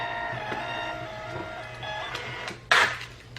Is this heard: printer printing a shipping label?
yes